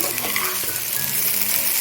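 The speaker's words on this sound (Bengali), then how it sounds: "চালের থেকে একটা ফুটফুট আওয়াজ বেরোচ্ছে" Rice grains crackle and tick in a hot pan, a dense patter of small pops over a steady frying hiss, close and fairly loud.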